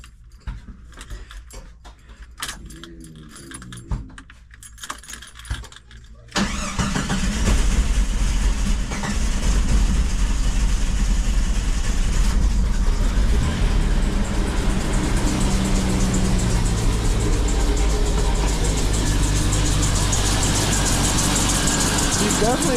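A Renix Jeep Comanche engine, newly fitted with 4-hole fuel injectors, cranks and catches after a few seconds of quieter sounds, then settles into a loud, rough, uneven idle that keeps running.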